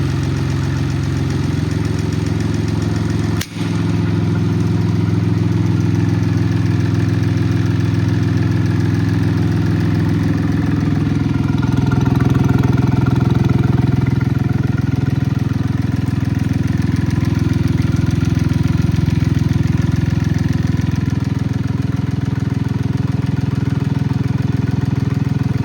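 A Cub Cadet Cyclops lawn tractor engine runs steadily at idle, a loud, continuous close-up drone with a brief dip near the start, then holding even throughout.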